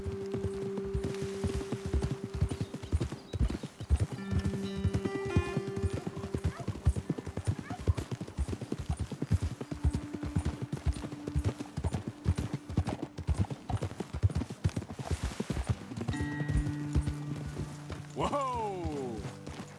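Horses' hooves clip-clop steadily at a walk on a trail in the Red Dead Redemption 2 video game, a continuous rhythmic clatter with a horse neighing near the end and people talking over it.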